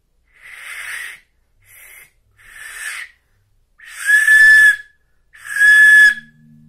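A simple handmade whistle blown in five separate breathy toots, the last two longer and louder with a clearer, steadier tone.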